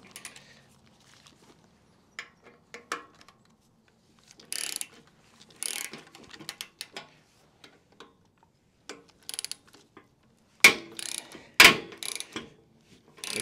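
Ratchet fitted with a 1/4 inch Allen socket loosening bolts on a Harley-Davidson Road King Special front fender, heard as close, sharp bursts of ratcheting clicks separated by pauses, ending with two loud metallic cracks.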